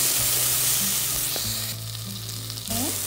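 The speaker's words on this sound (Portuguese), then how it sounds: "Dá uma refogadinha mesmo para ela ficar meia crocante ainda." Sweet peppers sautéing in a pan with salt, a steady close sizzle and crackle of frying that runs throughout, with a few brief clinks and stirs along the way.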